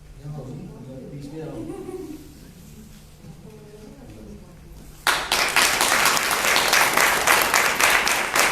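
An audience at a farewell ceremony breaks into loud, dense applause halfway through, following someone speaking into a microphone over a hall's murmur; the clapping then fills the room steadily to the end.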